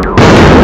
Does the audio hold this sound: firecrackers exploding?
yes